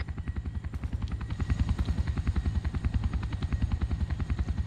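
Helicopter in a Vietnam War video game coming in to land: a loud, steady rotor thump with rapid regular blade beats and a constant turbine whine, close and unbroken throughout.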